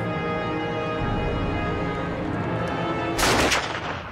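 Gunfire in a tense dramatic scene, with a sustained rumbling barrage building under the action and a sharp, loud burst of shots near the end.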